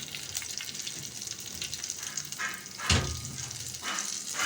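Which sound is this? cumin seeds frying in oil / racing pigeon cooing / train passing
cumin seeds frying in oil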